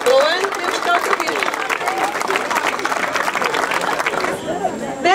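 Audience applause at a school's formal opening ceremony for the academic year in Mangualde, steady dense clapping with crowd chatter and cheering voices throughout, loud and close, tapering slightly at the end.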